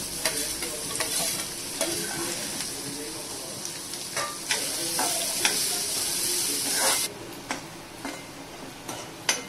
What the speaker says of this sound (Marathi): कांदा लालसर परतून झालाय